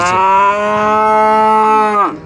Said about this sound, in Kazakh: Саан уйларды көргөзүп берели, достор.